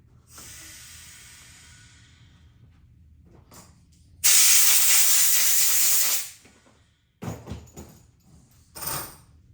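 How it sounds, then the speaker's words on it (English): A compressed-air hose blows metal filings off a cylinder head on a Corvette 350 small-block engine in a loud two-second blast, followed by shorter hissing bursts amid quieter shop noise. "I'm going to blow them off, so give me 1 second with the air hose"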